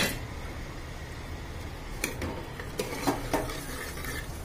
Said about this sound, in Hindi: यहाँ पे मैं अपनी ऑयल में प्याज डाल देती हूँ।